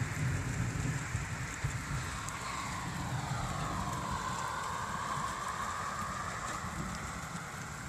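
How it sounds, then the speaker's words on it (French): Rain starting to fall between Saint-Étienne and Lyon, a continuous soft hiss with low rumbling beneath, constant and moderately loud throughout, no voices. "Donc là il commence à pleuvoir."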